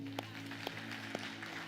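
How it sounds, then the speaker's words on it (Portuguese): A church congregation claps together at a worship service: a steady, moderately faint wash of applause with a few sharper claps standing out over a low background hum. "Aplaude o Senhor."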